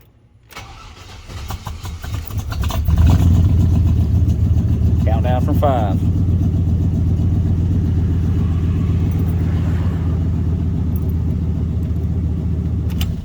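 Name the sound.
Chevy C/K1500 5.7 V8 truck engine starting and idling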